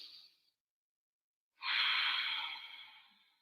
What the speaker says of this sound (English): Take 2 more breaths here.